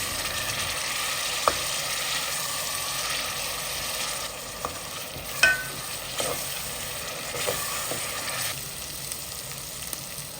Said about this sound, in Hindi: बस इसको अच्छे से अब हमें फ्राई करना है, प्याज, लहसुन अदरक, ज़ीरा और अजवाइन को